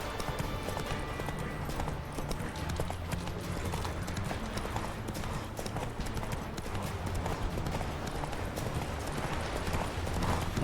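Horse hooves galloping in The Witcher 3, a steady rapid clip-clop running throughout over dense game music and ambience, with a brief whinny-like sound possible but no talk in the stretch.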